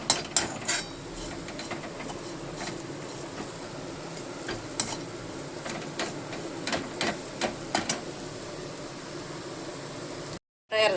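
Peanuts fry in oil on a tava, giving a steady sizzling crackle with scattered sharp clicks of a spoon against the pan. It stays close and fairly even throughout, with no voices.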